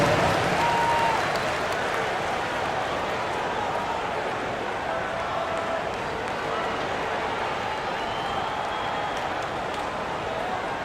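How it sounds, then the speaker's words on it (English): Steady, dense crowd applause fills a basketball arena in NBA 2K25, a broad wash of clapping and cheering that carries evenly from start to finish with a slightly louder opening. "Round of applause."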